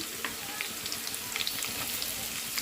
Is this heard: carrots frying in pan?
yes